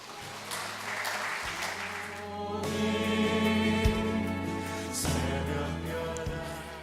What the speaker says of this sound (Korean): 우리 장로님 나오실 때 박수해 주십시오